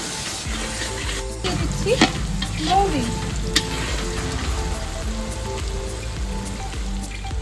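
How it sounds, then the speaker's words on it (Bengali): Ground coriander and spices sizzle steadily in a hot pan, accompanied by a few scraping stirs and light spattering, fairly close and loud, with no talking. "মশলা খুব সুন্দর করে ভাজা হয়ে গেছে"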